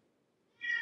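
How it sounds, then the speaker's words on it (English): An old cat caterwauls in a kitchen, a loud, sudden yowl bursting in near the end after quiet room noise. "he comes in from the outside and literally caterwauls in our kitchen as loud as humanly possible"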